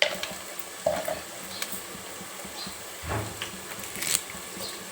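Ginger-garlic paste with a pinch of turmeric frying in a pan, a soft steady sizzle broken by a few stirring scrapes and light clinks, close and moderately quiet.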